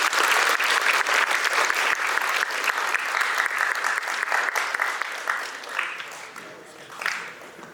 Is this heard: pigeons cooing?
no